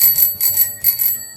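A vintage bicycle bell rings in three quick bright bursts, each a pair of rapid metallic trills, loud and close with nothing else heard.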